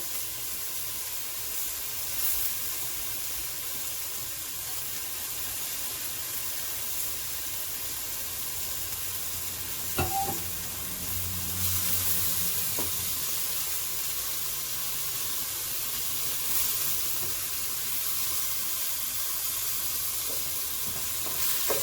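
Beef sears in a hot pan for a pot roast, giving a steady, dense sizzle and hiss throughout, broken by a few brief clinks and stirring scrapes.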